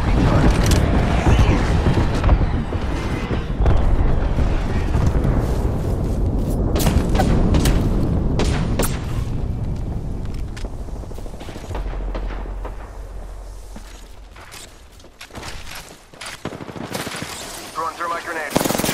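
Dense Apex Legends gunfight with Revenant, sustained machine-gun bursts and booming shots, loud and continuous early then thinning into sporadic cracks, with players talking throughout.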